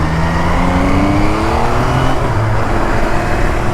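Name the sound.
MV Agusta Rivale 800 motorcycle engine accelerating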